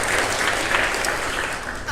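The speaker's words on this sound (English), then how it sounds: "you can clap for yourselves" Audience applause at a corporate tech conference event, steady dense clapping from a crowd filling the whole stretch at an even level.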